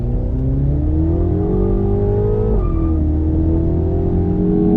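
A 231 hp Mini Cooper S JCW accelerates hard, its engine note climbing steadily and close by, dipping briefly at a gear change before rising again, loud and unbroken with no talk.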